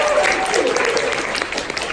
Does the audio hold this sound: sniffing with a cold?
no